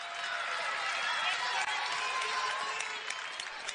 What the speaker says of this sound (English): Crowd finally has something to cheer about.